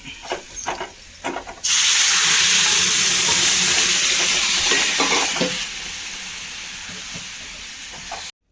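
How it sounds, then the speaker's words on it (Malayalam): Cooked lentils and spinach poured into a hot tempering of fried chillies, a sudden loud rushing sizzle that bursts in after quieter crackling, then slowly eases and fades before cutting off. "ഇനി നമുക്കിതിലേക്ക് പരിപ്പ്, ചീരയൊക്കെ വേവിച്ചത് ഒഴിച്ചു കൊടുക്കാം."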